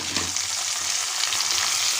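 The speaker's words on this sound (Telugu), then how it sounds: "ఇప్పుడు ఇందులో టమాటా వేస్తున్నాను." Tomatoes hiss and sizzle in hot oil with green chilies while tomato upma is cooked, a steady close frying crackle with faint stirring and no talking.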